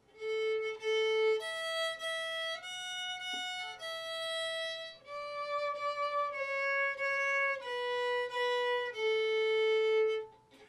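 Bowed string instrument, likely violin, playing the opening four measures of Twinkle Twinkle Little Star as a beginner lesson, with sustained notes stepping down in pitch and no talking.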